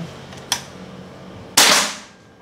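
A single sharp shot from a Bocap Hacker PCP air rifle with 500cc double tank cracks out close by, with a brief ringing decay, after a faint click a second earlier.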